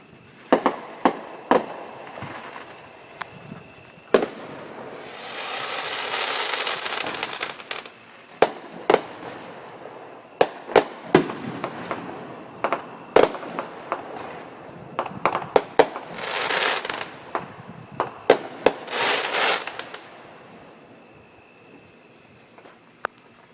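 Fourth of July fireworks burst outdoors at night: sharp booms scattered across the scene, with long crackling showers swelling and fading between the bangs, some near and loud, others farther off.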